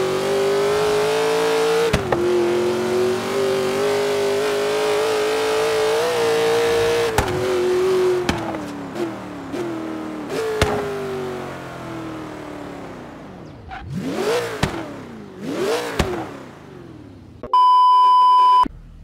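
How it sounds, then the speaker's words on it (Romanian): Ford GT Horizon Edition in Forza Horizon 3, a V8 engine droning loudly and steadily, then revving through sharp gear-change cuts and rising and falling swoops, ending in a brief electronic beep tone. "Asta este un Ford GT Horizon Edition."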